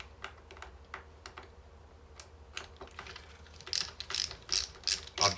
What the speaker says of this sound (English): I've got a ratchet, I don't use a screw gun to do the neck bolts